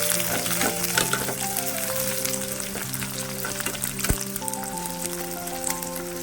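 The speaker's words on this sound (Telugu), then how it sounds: "మీడియంలోనే పెట్టి మాడకుండా వేయించుకుందాం." Masala frying in hot oil for an Indian village-style curry: a close, continuous crackling sizzle with occasional stirring scrapes, loud and steady throughout.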